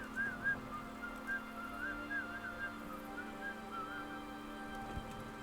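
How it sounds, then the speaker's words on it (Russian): An NPC in Kingdom Come: Deliverance whistles in short, wavering bursts, moderately close over a steady low game-world hum and faint background ambience. "Он так странно свистит"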